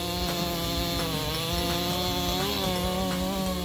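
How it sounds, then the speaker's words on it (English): A Husqvarna 395 XP chainsaw with a 94cc, 7.1 horsepower engine cuts through a tree trunk, its engine whining high and continuous with slight pitch dips under load, heard close and alone. "The Husqvarna 395 XP is a true lumber giant in the chainsaw world."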